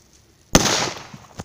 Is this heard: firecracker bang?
yes